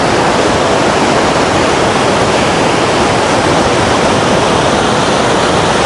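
A mountain river rushes through fir forest past large boulders in the Teberda reserve near Dombai, with a loud, steady, continuous roar and no voices.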